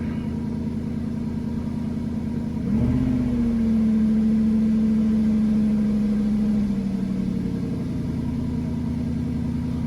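A 2002 Cadillac Northstar engine with a rough idle settling down, a steady low hum that jumps briefly as it revs, then holds an even, smoother idle, close and continuous.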